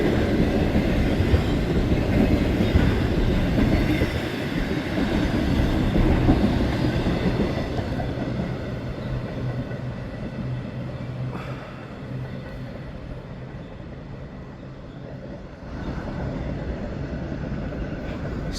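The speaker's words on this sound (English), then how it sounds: "Here's the end of a train." Railcars roll past at the tail end of a train, the wheels clattering in a steady rhythm with occasional squeals before the sound thins as the last cars clear.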